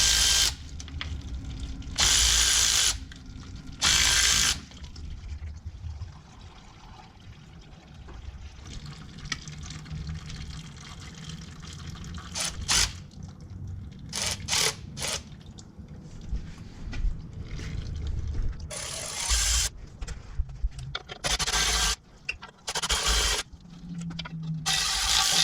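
Ratchet loosening the transmission pan bolts on a Caravan / Town & Country: bursts of ratcheting clicks recur in short bouts over steady background noise, with some mechanical clatter between them.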